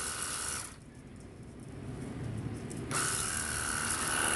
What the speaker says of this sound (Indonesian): Kita bisa perhatikan pada saat ini saya mencuci motor, memang debit airnya jadi lebih kencang